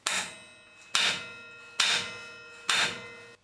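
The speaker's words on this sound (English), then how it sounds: "you need to put a centre punch in the dead centre" Four evenly spaced, sharp metallic hammer blows strike a centre punch set into a broken bolt, each ringing briefly before the next, close and loud with no talking.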